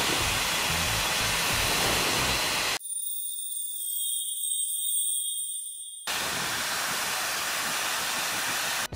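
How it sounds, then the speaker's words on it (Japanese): A hair dryer blows hair during styling, a loud, steady close-up roar of air that shifts midway into a thinner, high-pitched whine before returning to the full rush. "ドライヤーの方していきたいと思います。"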